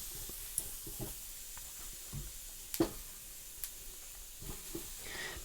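Reheated chicken wings sizzle on a hot Granitestone Piezano pizza stone, a faint, steady hiss with scattered soft pops and ticks. No one speaks.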